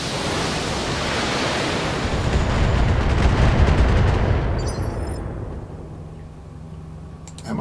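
Heavy weapons fire from battling mechs in the BattleTech game, a dense roaring barrage of blasts that swells and then fades into a rumbling tail.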